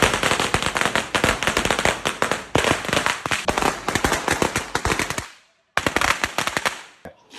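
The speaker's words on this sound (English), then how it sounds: "There's firecrackers everywhere." Firecrackers explode in a dense, rapid string of loud cracks and pops at a festival in Phuket, Thailand, briefly pausing before another close burst erupts.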